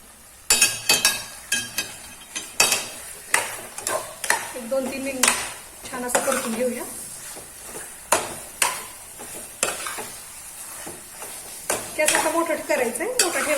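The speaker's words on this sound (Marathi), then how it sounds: "चिकन आणि हा मसाला जो आहे तो छान परतून घ्यायचा आपल्याला" Marinated chicken and masala stir-fried in a pan for chicken Malvani, with repeated sharp clanks of a spoon against the pan in steady rhythm over a soft sizzle, close and fairly loud; a voice speaks briefly in between.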